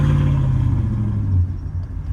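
Deep rumbling exhaust from a cammed 5.3 truck fitted with a Carven R exhaust, a close, loud, steady low drone with a slight pitch drop as it settles.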